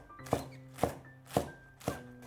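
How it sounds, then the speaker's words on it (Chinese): A knife chops freshly picked scallions on a cutting board, with four evenly spaced, crisp thuds at close range in an otherwise quiet kitchen. "刚从地里摘的小葱切成葱花"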